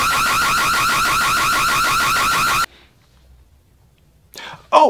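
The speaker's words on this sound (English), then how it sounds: "I also set off the alarm on purpose" An office alarm set off deliberately gives a loud, rapid, pulsing electronic wail for over two seconds, then cuts out abruptly into near silence, followed by a short burst of another sound at the end.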